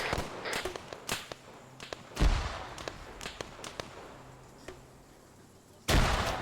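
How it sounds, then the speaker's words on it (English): Grenadier rounds pelting an area in a military game firefight: a scatter of sharp bursts and cracks, several far-off pops and two louder blasts, spread irregularly over the stretch. "So they're pelting this area with grenadier rounds."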